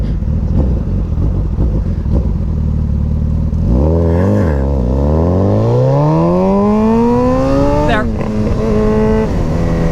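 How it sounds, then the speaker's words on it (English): A motorcycle runs hard from 0 to 60, its engine note climbing steeply through the gears, with a brief shift break near the end. The rider's front end lifts under throttle. The sound is loud and close, and a voice talks over it. "This is a tough bike to do a 0 to 60 on."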